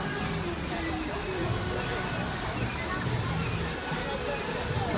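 Waterfalls on Discovery Island at Animal Kingdom rush and splash in a steady, broadband wash, with faint crowd babble and distant activity mixed underneath.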